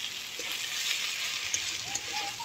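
Chopped banana flower fries in a pan for a banana flower and chana bhaji, giving a steady close sizzle with a few soft clicks of stirring.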